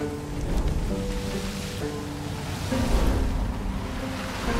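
Water waves in the video game Tearaway Unfolded wash and surge as a steady, fairly loud broadband rush, swelling slightly toward the end, with no voices.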